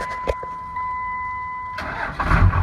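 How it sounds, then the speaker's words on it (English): A 12-valve Cummins diesel pickup engine cranks briefly and fires up, catching into a loud rough idle that builds near the end, with a steady electronic tone running beneath the earlier quiet stretch. "And then when I push it in, like that,"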